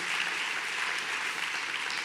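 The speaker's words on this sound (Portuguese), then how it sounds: "aplauda o Senhor, em nome de Jesus." Dense, steady applause from a large church congregation, loud and continuous throughout with no pauses.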